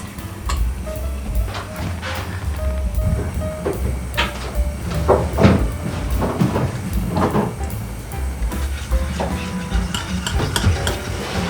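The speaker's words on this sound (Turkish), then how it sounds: "Gelip sen lütfen bunu karıştırmaya devam et." Cake batter being stirred in a pot inside a camper van, a steady scraping and sloshing churn with occasional clinks, running continuously at close range amid light background noise.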